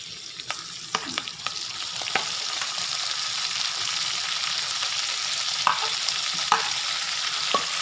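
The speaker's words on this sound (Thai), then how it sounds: "ใส่หมูลงไปเลยค่ะ" Pork stir-frying in a pan, loud continuous sizzling with sharp clicks and scrapes of a utensil early on and a few later, no talking.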